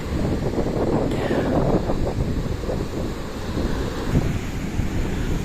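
Stormy sea with rough waves and strong wind, a steady loud roar of surf and gusts buffeting the microphone throughout, with no voices.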